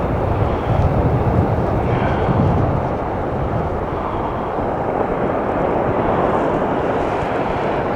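Strong wind gusts across a beach in South Shields, a steady roaring buffet of air on the microphone that carries loud and unbroken from start to finish with no voices.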